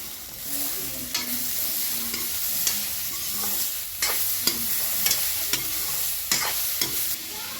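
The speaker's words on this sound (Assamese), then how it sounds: "বিলাহীখিনি অলপ কোমল হোৱালৈ ভাজি থাকিম" Tomatoes frying in a pan with salt, cashews and raisins for paneer butter masala, a loud close sizzle with periodic scraping stirs and clicks from a utensil.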